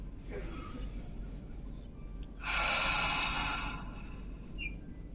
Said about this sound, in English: one closing breath in through the nose and out through the mouth